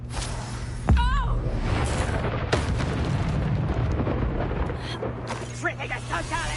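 In combat in the Hogwarts Legacy video game, a Confringo spell explodes with a sudden booming burst, followed by further blasts and magical effects amid busy game sound, while a player talks over it.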